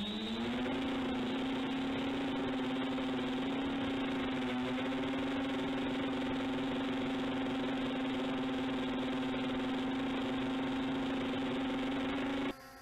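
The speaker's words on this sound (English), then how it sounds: "The brushless motor sound." An MJX Bugs 6 250mm brushless racing quadcopter hovers nearby, its motors producing a steady, loud, high-pitched buzzing whine with strong harmonics that holds constant for about twelve seconds before cutting off.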